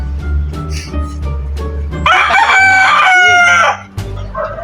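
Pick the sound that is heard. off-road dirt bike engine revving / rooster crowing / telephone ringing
rooster crowing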